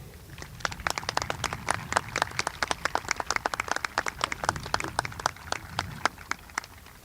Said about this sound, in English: Let's give a round of applause for this year's Always a Redskin Leader winner